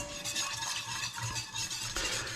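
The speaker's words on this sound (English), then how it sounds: "using a whisk" Milk being whisked in a pot on the stove for a Christmas cod dish, a continuous rapid swishing and light rattling of the whisk, close and moderately loud.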